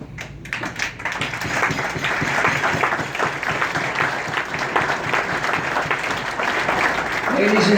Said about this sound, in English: please give this illustrious group a warm round of applause, which you already did